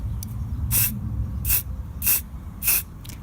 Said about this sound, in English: take the aerosol, hold it about 3 inches away, having shaken it very well, and reapply the oil